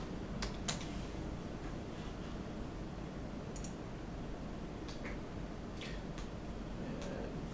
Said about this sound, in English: I'm just clicking here where it says track two and changing the names.